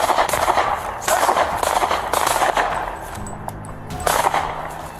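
Gunfire exchange during a police chase: a few sharp, loud cracks spaced through a few seconds, with some street noise between them.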